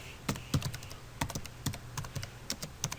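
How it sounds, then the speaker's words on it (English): Typing on a computer keyboard gives a quick, uneven run of crisp key clicks with short gaps, close and fairly quiet, with no talking. "I'm going to type in 6111"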